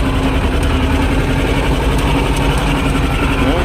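A tractor diesel engine fitted with MTZ fuel injection equipment runs steadily and loudly nearby, a dense, even rumble with a constant hum that does not change over the few seconds heard.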